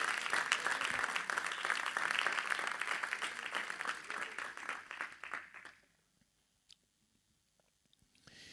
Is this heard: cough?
no